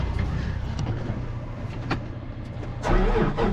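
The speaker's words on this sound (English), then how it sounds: "let's go ahead and start my tractor up so I have some lights" A farm tractor engine cranks and catches, its low rumble running steadily before a louder surge near the end as it fires up, close by with no talk.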